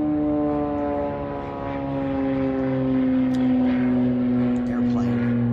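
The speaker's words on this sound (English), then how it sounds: "there's an airplane overhead" A propeller airplane drones steadily overhead above a quiet garden, its low engine hum continuous and fairly loud throughout.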